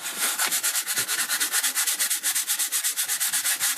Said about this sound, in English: So now we can sand it